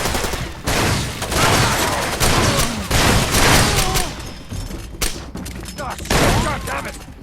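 Gunfire in the video game Far Cry 2, dense bursts of rapid shots and fusillades crackling almost continuously, loud and close, with brief lulls between volleys.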